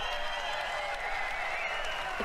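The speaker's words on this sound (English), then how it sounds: "As you can hear, we've got a great crowd here in London." A large audience in a London theatre applauds continuously at a video game press conference, dense steady clapping and crowd noise filling the hall.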